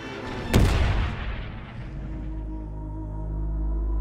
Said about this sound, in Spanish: la artillería de proa dispara la salva final